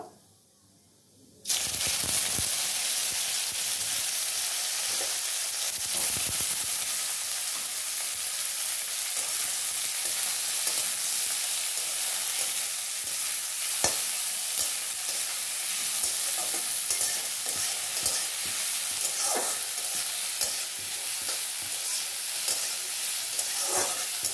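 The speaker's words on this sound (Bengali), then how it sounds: "এবারে সিদ্ধ করা আলু আর শাকটা দিয়ে দেবো।" Boiled potatoes and leafy greens hit hot oil in a pan and are stirred, giving a steady, loud sizzle and hiss that runs unbroken after a brief quiet start, with occasional scraping strokes.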